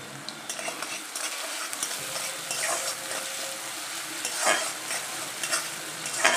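Finely chopped onion with a pinch of sugar fries steadily in a pan, browning for coriander chicken, with a continuous close sizzle broken by occasional stirring scrapes and clinks.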